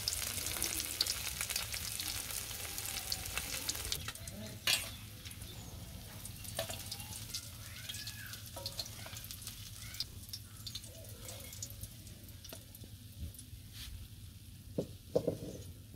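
Bata fish frying in oil in a pan in a village kitchen, a continuous crackling sizzle with occasional stirring scrapes and a few sharper clinks near the end.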